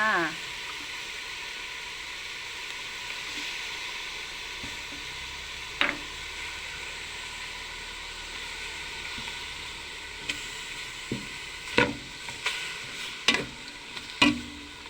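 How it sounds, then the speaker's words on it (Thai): Pork stir-fried in a pan with fish sauce and lemongrass sizzles steadily throughout, with a few sharp utensil clacks against the pan toward the end; no talking. "ร่วนหมูจ้าใส่น้ำบาลาลงไปร่วนพร้อมกันเลยจ้า"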